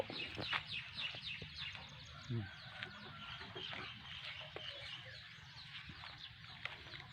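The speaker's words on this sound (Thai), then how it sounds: "อันนี้เล่าไก่ครับ" Chickens cluck steadily inside a coop at a rural home damaged by a storm, several birds close by with repeated, overlapping calls that carry on throughout.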